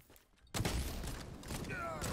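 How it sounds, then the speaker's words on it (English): Gunfire in the video game Hawked: a quiet lull, then a sudden burst of rapid distant shots with mechanical clatter and a short whistling tone, continuing at moderate level under faint game ambience. "Oh, I hear gunshots."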